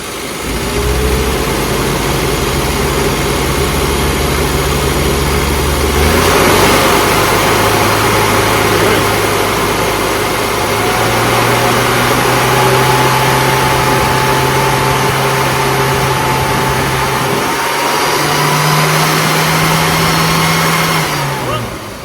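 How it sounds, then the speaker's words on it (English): A classic car engine with a carburettor running lean, held at a steady idle and then raised to a higher rev that shifts pitch in steps, loud and close, with talk in the background. "So, if I now rev it, we go back to being too lean."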